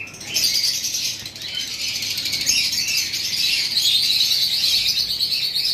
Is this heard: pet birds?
yes